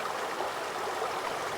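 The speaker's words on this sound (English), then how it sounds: "it's a peaceful, beautiful looking little creek" A small creek in a desert oasis canyon flows in a steady, even rush of water, close and continuous, with no voices.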